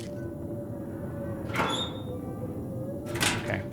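Two drawers slide open one after another in The Long Dark video game, each a short wooden scrape with a faint squeak over a steady low indoor hum.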